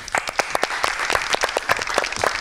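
An audience at a lecture on CRISPR gene editing breaks into loud, close applause to welcome the guest speaker, dense sharp claps sustained throughout without voices.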